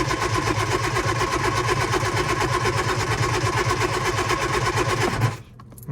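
A Lotus Elan engine is cranked with the choke pulled out on a damp morning, a loud, continuous rhythmic churning that runs for about five seconds before cutting off abruptly.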